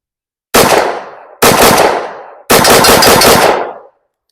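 Gunshots from a SIG P365 X Macro pistol with a muzzle brake fire at an outdoor range. Three sharp, loud reports come close and evenly spaced, each trailing into a short echo, and the last reverberation lasts longer.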